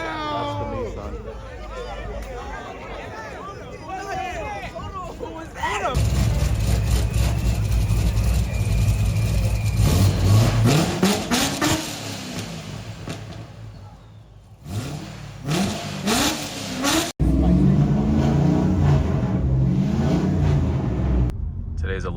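A Nissan car engine revs at a car gathering as students head out for lunch: loud repeated rising revs and idling rumbles, punctuated by sharp blips, with crowd chatter and talk around it.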